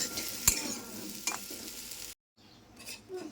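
A five-spice mix with bay leaf fries in hot oil, giving a soft sizzle with a few stirring clinks; it drops out briefly, then faint frying returns.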